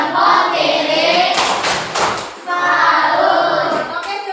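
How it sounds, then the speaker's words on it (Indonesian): A class gives a rhythmic applause chant, a few sharp claps and thumps in a short patterned burst between stretches of children and a teacher talking. "bagi tepuk salut untuk kelompok 3 terakhir"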